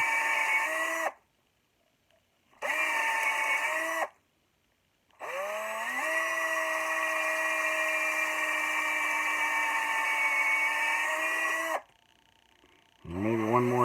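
An electric drill bores holes about an inch deep into a wooden axe handle, whining in several bursts. Short pauses of quiet separate one long steady run.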